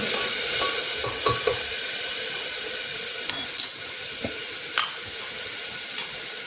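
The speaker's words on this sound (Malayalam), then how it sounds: "നമുക്കിതിലോട്ട് ചേർക്കുന്നത് വെളുത്തുള്ളി ഇഞ്ചി പേസ്റ്റാണ്" Garlic-ginger paste frying with onions in a pan, a continuous sizzle broken by repeated stirring scrapes and clinks of a spoon against the vessel, close and fairly loud.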